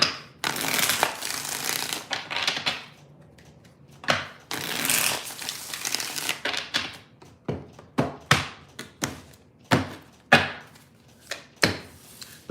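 Tarot cards are shuffled close up in repeated riffling bursts, with brisk slaps and taps between shuffles and no talking.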